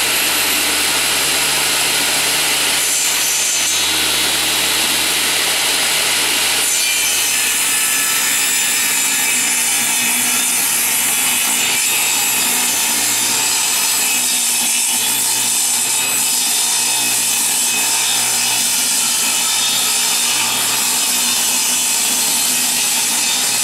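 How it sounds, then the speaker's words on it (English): A power saw rips wooden boards lengthwise in half, a loud continuous whining, grinding cut sustained for a long stretch, with a low motor hum that drops away partway through. "So I'm going to rip these 3 pieces in half."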